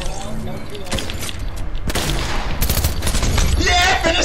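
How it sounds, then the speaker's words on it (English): Rapid SMG gunfire from the video game Fortnite, quick bursts of shots crackling amid game sounds and excited talk, loud and dense toward the end. "finish it with the new SMG"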